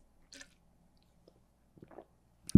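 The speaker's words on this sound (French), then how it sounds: "Prends une petite gorgée d'eau." Someone takes a small sip of water close to the mic: faint wet mouth clicks and a soft swallow, then a brief louder knock at the end, in an otherwise quiet room with no speech.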